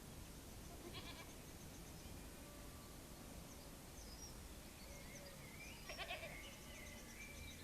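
Goats kept in the dry moat of a stone lookout turret in Devizes, Wiltshire, bleating faintly from a distance, two short calls several seconds apart over steady outdoor ambience with faint birdsong.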